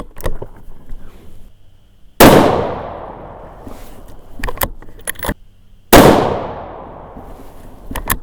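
Two loud, close rifle shots from a Weatherby Vanguard in an MDT chassis chambered in 6.5 Creedmoor, about four seconds apart, each with a ringing decay, and quieter clicks and clatter of the action between them.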